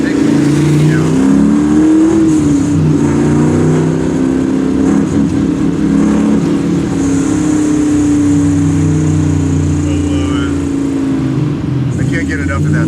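Super rare AMC/Hurst SC Rambler Scrambler with a 700 hp engine revving hard, a loud steady rumble that climbs and falls in pitch, with people talking over it throughout.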